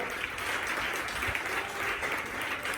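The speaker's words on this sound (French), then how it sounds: "Asseyez-vous et acclamez cette parole" A church congregation claps together in a dense, continuous round of applause, filling the room evenly from start to finish.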